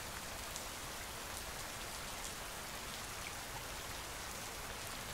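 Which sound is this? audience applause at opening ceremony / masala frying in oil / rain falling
rain falling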